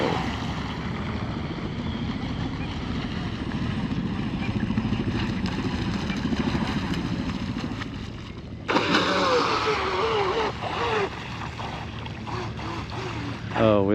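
A J&R Marine H17 RC hydroplane boat runs its engine on the water in a continuous buzzing drone, briefly shifting pitch and intensity as it is thrown into a turn, with a voice over it.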